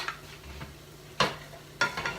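Onions and garlic sautéing in a pan while being stirred for a whole-food plant-based Southwestern dish, with soft background sizzle and two sharp scraping stirs standing out, no talking.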